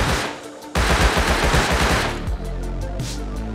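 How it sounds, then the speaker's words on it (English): Rapid automatic bursts from a Tommy gun in the survival game Rust, loud and sustained across the whole stretch, with a brief dip before the firing resumes at a steady rattling pace. "I hit him with a Tommy."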